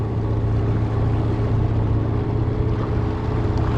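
A motorboat's engine drones steadily and loudly close by on the Dniester river during a zander fishing trip, an unbroken low rumble with faint water wash beneath it.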